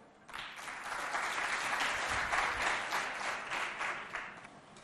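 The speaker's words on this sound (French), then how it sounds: "On l'applaudit, non?" Applause from an audience at a school event in Mao, welcoming a schoolchild who is about to tell a tale; steady crowd clapping swells in and holds for several seconds before fading slightly.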